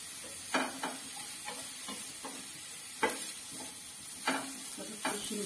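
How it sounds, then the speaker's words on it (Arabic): Onion and carrots sauté in a pan, a faint steady sizzle broken by several sharp scraping stirs of a utensil at irregular intervals, close and without talk. "دابا ملي شحر لينا خيزو شوية"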